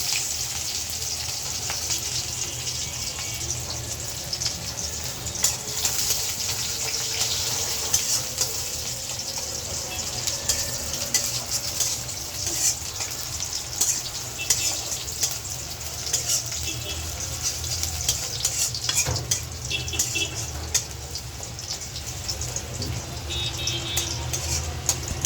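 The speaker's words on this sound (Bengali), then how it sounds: "তো ডাল সম্বার দেওয়ার জন্য আমি এখানে শুকনো মরিচ দিয়ে দিলাম" Dried chillies and onion frying in oil for a dal tempering make a steady sizzle with intermittent crackles and small clinks. The sound holds at an even level throughout, with faint running water mixed in.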